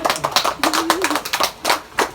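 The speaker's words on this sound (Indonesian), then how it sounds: "Tepuk tangan." A class of students claps hands during a practice teaching lesson on the digestive system, a brief burst of scattered, uneven claps close by with a short voice heard among them.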